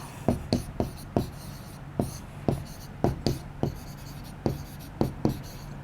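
Chalk or marker strokes on a classroom board during a Hindi maths lesson, a dozen sharp taps and short scrapes in an uneven rhythm, close and fairly quiet, with no talk over them.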